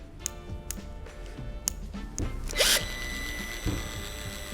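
A Dnipro-M DSG-200 electric sealant gun runs its motor at its lowest speed, giving a quiet mechanical whir with ticking and ratcheting clicks and a brief brighter burst partway through.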